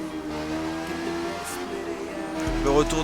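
A KTM motorcycle engine hums and revs steadily in the racing game The Crew, with a deeper roar swelling near the end, while a voice talks over it.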